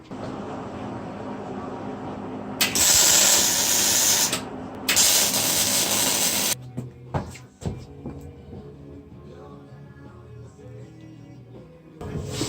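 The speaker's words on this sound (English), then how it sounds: "Alright, try to set this up and get welding." Welding on a mini bike part in a home workshop: two loud, steady hissing, crackling bursts of a few seconds each, followed by quieter clanks and handling noises.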